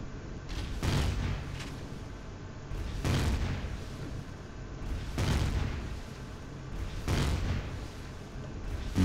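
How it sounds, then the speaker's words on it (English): Plasma cannons in the space game Empyrion fire in a slow, regular series of four or five booming blasts, each swelling and fading over a continuous low rumble, with no voices. "And plasma cannons."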